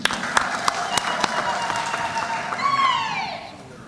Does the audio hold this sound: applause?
yes